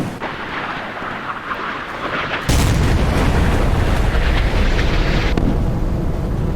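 A missile explodes against a ship in Sea Power, a 1970s British Royal Navy versus Italian Navy naval battle: a sudden heavy boom partway through, then a sustained loud roaring rumble that lingers to the end.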